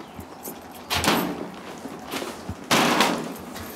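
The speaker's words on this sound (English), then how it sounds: "This door is very heavy, so be very careful." A heavy apartment door in the Bronx swings and thuds, two loud broadband impacts with rumbling rattle roughly two seconds apart, over a quiet room background.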